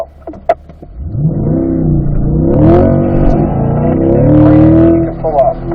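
A car launches in autocross practice, its engine revving up with rising pitch through a gear change, loud and close, as an instructor talks over it.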